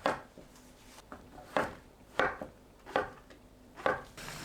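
A knife cuts king oyster mushrooms into thick julienne strips on a board, giving six distinct chopping thuds at an uneven pace, close and fairly clear with no voices.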